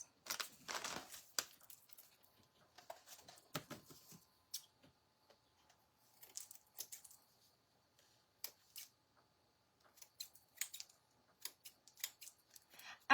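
Scissors trimming a pinecone flower craft, a series of quiet, close snipping cuts and crisp clicks coming in irregular bursts with near-silent gaps between them.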